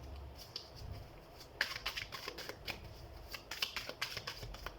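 A deck of tarot cards being shuffled up close, with soft riffling at first and then a quicker run of crisp, papery flicks and snaps. No one speaks.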